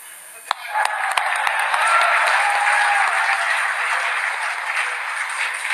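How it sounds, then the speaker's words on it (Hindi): An audience at a Hindi comedy poetry recital breaks into steady applause, a dense wash of clapping rising after a brief start and sustaining at moderate loudness to the end. "अगर विश्वास हो तो ताली बजा देना"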